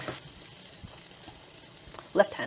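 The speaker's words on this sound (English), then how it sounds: "Let them sizzle, get a nice crust, get a nice brown" Food frying in a pan in a home kitchen gives a faint, steady sizzle throughout, with a brief louder crackle near the end.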